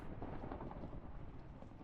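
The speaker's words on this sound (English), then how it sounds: "I love the sound of thunder." Deep rolling thunder rumble from a survival video game set underwater, a steady low broadband roar filling the short stretch without any voices.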